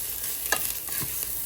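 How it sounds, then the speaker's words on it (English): Ginger being sautéed into rice in a pot for Guyanese vegetable rice, heard as a brief close stirring scrape over a soft, steady sizzle. "we're gonna saute this into the rice"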